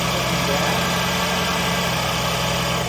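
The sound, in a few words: Buick Enclave engine running and idling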